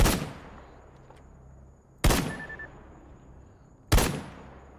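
Three single gunshots ring out in S.T.A.L.K.E.R. GAMMA, spaced about two seconds apart, each a sharp loud crack with a decaying echo tail into quiet.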